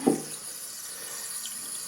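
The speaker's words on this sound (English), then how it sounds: "The water valve has failed in the toilet in the master bathroom. It's just barely trickling." Thin, steady trickle of water from a failing toilet fill valve in a master bathroom, a faint continuous hiss that holds even from start to end after a brief soft knock at the beginning, with no voices.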